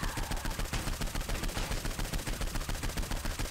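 Rapid automatic gunfire in the Saints Row IV video game, a steady rhythmic stream of loud, closely spaced shots rattling without pause from start to finish.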